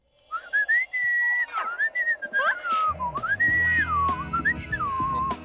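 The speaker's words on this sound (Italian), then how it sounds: "Sapevo che i fischi potessero essere così potenti." Melodic whistling in the Teen Titans Go cartoon, a clear wavering tune that rises and falls through several phrases, with light music and effects joining underneath partway through.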